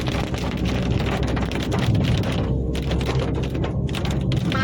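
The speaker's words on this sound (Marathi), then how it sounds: "खूप धुकं धुकं आहे पाऊस आहे वातावरण ऑल गुड" Dense, steady rush of rain and gusting wind in foggy hills near Mahabaleshwar, close to the microphone, a constant roar with no pauses.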